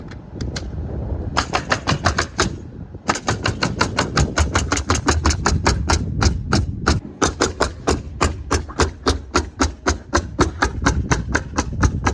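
Nails driven with a hammer into exterior wall sheathing over studs, a long steady run of sharp, evenly spaced blows close by after a few scattered opening strikes.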